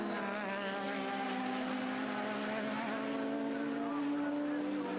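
1980s Formula 1 race cars at the German Grand Prix, engines screaming in sustained high pitch with rising and shifting tones as cars pass, loud and continuous with commentary talk over them.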